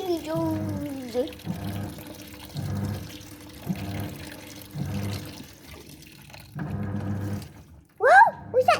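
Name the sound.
water running in a washing machine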